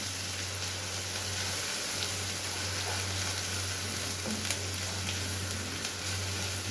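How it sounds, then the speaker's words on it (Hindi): Chopped onions fry in a pan, giving a steady, dense sizzle with a low constant hum underneath and no talking. "दो मिनट तक प्याज को हम फ्राई करेंगे"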